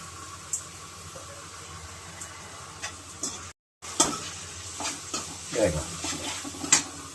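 Tomato rice stirred in a pan with a spoon, a steady soft sizzle under scattered scraping strokes, briefly cut to silence midway before the stirring resumes more busily.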